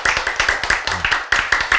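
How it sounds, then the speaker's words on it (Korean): Rapid rhythmic clapping in a church service, loud and close, a quick steady beat of many hands with a brief break near the middle. "박수."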